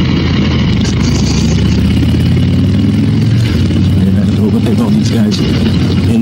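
A 2020 Harley-Davidson Electra Glide Standard rides through city traffic in Singapore, its engine a steady, loud, close rumble that holds without a break for the whole stretch.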